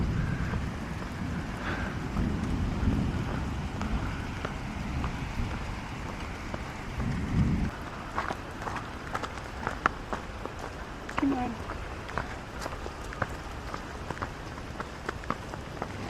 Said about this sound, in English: the thunder is also, thunderstorm is starting